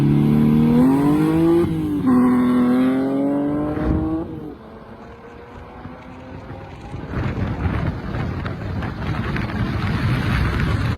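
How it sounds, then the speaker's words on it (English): A BMW 325 E46 on a test drive, its engine note rising and falling through revs before settling into a steady rumble with road and wind noise, loud and close throughout. "Now on Jack's little test drive, ran the 325 as a baseline"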